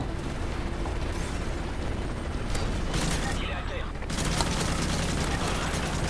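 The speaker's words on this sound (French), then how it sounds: "balance une grenade flash" A flash grenade goes off in the Call of Duty: Modern Warfare 3 shooter, its burst lost in a constant wash of loud gunfire and mechanical battle noise that runs without a break through the whole stretch.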